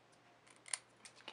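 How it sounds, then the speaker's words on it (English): Precision scissors snipping a strip of paper into a banner flag: a few faint, close, crisp cuts, the sharpest one near the middle. "make a banner flag out of it using my precision scissors"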